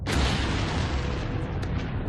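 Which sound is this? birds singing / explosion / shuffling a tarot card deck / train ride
explosion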